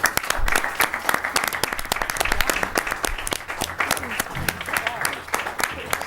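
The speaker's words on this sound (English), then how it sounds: "let's give them a round of applause." Audience applause at an Oshkosh mayoral candidates forum, steady dense clapping from a crowd lasting several seconds, with some voices talking underneath.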